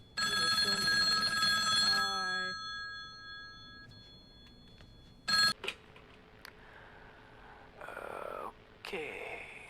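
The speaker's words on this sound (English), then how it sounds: "I should interact with the ringing phone" A telephone rings in the video game Summerland, a bright electronic ring lasting about two seconds, followed by quieter clicks, a thump and brief sparse tones, with no talk.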